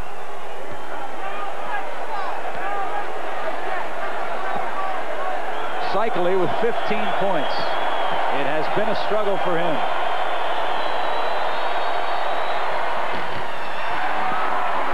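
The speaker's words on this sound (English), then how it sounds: "Now listen to this crowd, though, as Cycli goes to the line." Basketball arena crowd from a Miami Heat versus Orlando Magic NBA game rises in a loud roar and jeering as a player shoots free throws, under steady play-by-play commentary with a few ball bounces heard.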